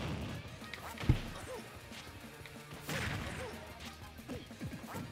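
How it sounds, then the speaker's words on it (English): A handheld game controller gets smashed during gaming, one sharp close thud standing out early over a low, busy background, followed by fainter knocks and rustles. "Can y'all hear me smashing my controller?"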